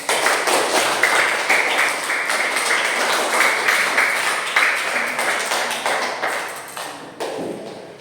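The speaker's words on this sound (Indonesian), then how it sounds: "Ayo kita beri tepuk tangan untuk kasih kami" Classroom of students clapping hands together for classmates, a dense, steady patter of many close claps lasting several seconds before tapering off near the end.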